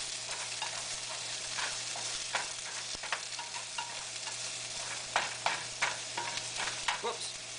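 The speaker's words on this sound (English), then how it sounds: "Stir that some more." Squash and zucchini sizzle in a pan as they are stirred, with a constant frying hiss broken by scattered scraping and stirring clicks close by.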